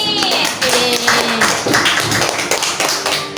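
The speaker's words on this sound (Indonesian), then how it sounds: "tepuk tangan dulu untuk hari ini" Classroom full of students clapping hands together during an Indonesian microteaching lesson, a loud, dense patter of many overlapping claps running steadily throughout.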